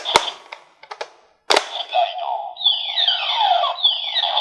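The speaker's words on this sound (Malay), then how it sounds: "So tu bunyi dia summon rider, dia panggil rider lain." A Kamen Rider Decade DX Diendriver toy plays its rider-summoning effect: a few sharp clicks and a pop, then a bright electronic sweep of descending synth tones and chimes, close and loud, with no talking.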